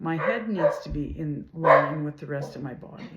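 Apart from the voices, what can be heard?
dog barking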